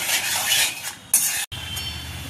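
A spoon scrapes and stirs milk powder into milk in a pan while making malai suji modak, a continuous close swishing with a brief sharper scrape and one short gap.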